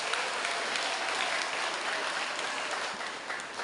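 A crowd at a church year-end mass and Christmas song festival prize-giving claps steadily, a full even wash of applause that eases slightly toward the end.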